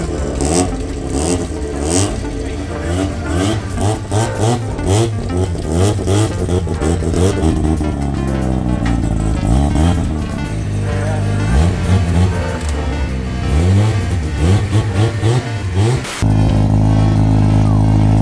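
A Mazda RX7 time attack car revs hard and loud up close, its rotary engine rising and falling through repeated sweeping pulls, then settling into a steady high idle drone near the end.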